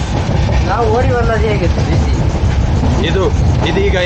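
A train rolls along with a loud, steady, continuous rumble and rattle, while several people talk and call out over the noise.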